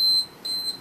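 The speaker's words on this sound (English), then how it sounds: "it'll beep every time I transition" A workout interval timer gives two loud, clear electronic beeps in quick succession, each a steady high tone heard alone without talk.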